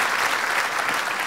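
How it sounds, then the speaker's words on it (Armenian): An audience applauds the actors after a stage performance, a dense, even burst of clapping with no voices. "ես կուզենամ իմ ընկերներին ծափարենք"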